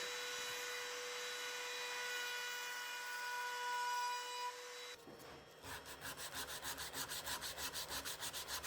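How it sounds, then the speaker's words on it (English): A router fitted with a round-over bit shapes the edges of a wooden mallet, giving a steady high whine for about five seconds, then a rhythmic pulsing cut as the bit passes repeatedly along the wood, close and loud with no talk. "I use a round over bit on the router to soften the edges to avoid chipping and give the mallet a smoother look."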